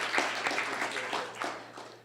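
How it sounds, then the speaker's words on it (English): A City Club audience applauds at a talk: steady, moderately quiet clapping fills the short stretch, with a faint low hum running underneath. "So give yourselves a round of applause"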